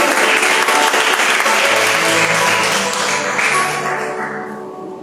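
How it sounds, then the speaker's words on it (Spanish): Congregation in a church service clapping together, a dense, loud burst of many hands that holds steady for several seconds and then gradually thins and fades out. "Vamos a aplaudir al que todo puede."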